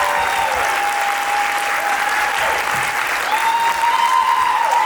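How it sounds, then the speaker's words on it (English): A room full of people at a film world premiere claps steadily and loudly, sustained applause with a few faint cheers over it. "I just want to give a round of applause to Yolandi Franken, the amazing producer of"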